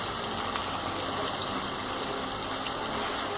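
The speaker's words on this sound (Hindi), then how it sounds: "आधा कप इसमें हम पानी शामिल करेंगे" Half a cup of water poured into chicken liver cooking in a pan, a continuous gushing, splashing hiss that holds steady and fairly loud for a few seconds with no talk.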